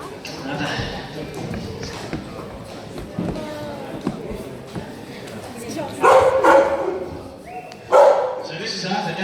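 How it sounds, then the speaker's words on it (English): An Australian Kelpie sheepdog on a sheep farm near Perth gives a few sharp barks, two louder ones standing out near the end, while someone talks steadily over outdoor background noise. "The dogs that we use are Australian Kelpies, specially bred for working sheep."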